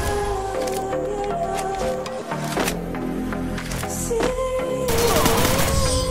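MP40 gunfire in the Free Fire mobile video game: dense rapid bursts of automatic fire mixed with loud game effects and background music, continuous and close throughout.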